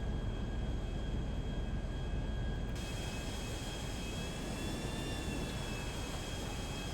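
A private jet in GTA 5 Online takes off with a loud, steady jet engine roar and a rising whine that grows brighter partway through, continuous throughout with no talk.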